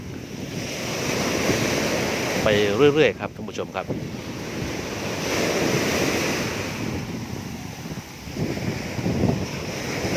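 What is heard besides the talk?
ocean waves breaking on the shore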